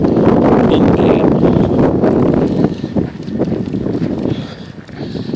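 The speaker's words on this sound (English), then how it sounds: "So as mentioned, the wind's pretty gusty right now." Gusty blizzard wind during a winter storm in Bangor, Maine, a loud continuous roar buffeting the microphone that eases slightly partway through.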